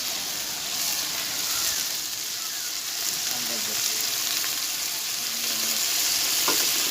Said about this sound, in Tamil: நெக்ஸ்ட்டு 100 கிராம் தயிர் வந்து ஆட் பண்ணலாம்.